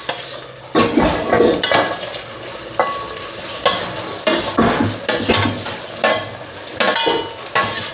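Cauliflower, potatoes, carrots and peas being stirred and fried in a pan for masala pulao, with repeated scraping bursts of a spoon against metal over a steady sizzle, close and fairly loud.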